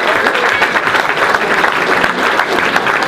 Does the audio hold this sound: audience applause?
yes